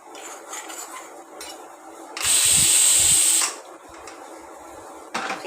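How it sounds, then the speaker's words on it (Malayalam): Roasted spice powders stirred in a hot pan after the flame is turned off for a simple chicken curry, giving a loud, steady metallic scraping and rattling for about a second, with quieter clinks of the spoon on the pan around it. "അടുപ്പ് അണച്ചതിന് ശേഷം നല്ലവണ്ണം ഇളക്കി കൊടുക്കണം."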